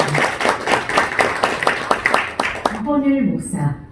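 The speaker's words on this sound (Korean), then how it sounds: "힘찬 박수로 축하해 주시길 바랍니다" Audience at a Korean Christian association's launch ceremony claps in a rhythmic, beat-like pattern for several seconds, then stops as a voice speaks.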